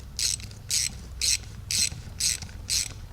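A ratchet wrench turning a 13mm socket while removing a power steering pump on a 2003 Pontiac with a 3.4L V6, heard as six evenly spaced bursts of crisp, close clicking over a low background hum.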